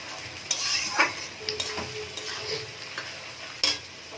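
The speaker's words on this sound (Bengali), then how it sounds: "আবার একটু নাড়াচাড়া করে" Chili chicken is stirred in a frying pan, with a few sharp spoon clinks and scrapes scattered over a soft sizzle. The sounds are close and irregular, and no one speaks.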